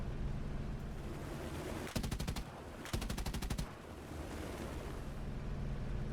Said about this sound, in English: Major Soto Enriquez ordered his pilots to fire short bursts from the 20mm cannons to check them.